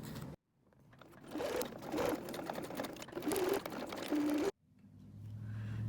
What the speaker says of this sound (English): Now we're going to stitch on this line to divide the pockets into 4.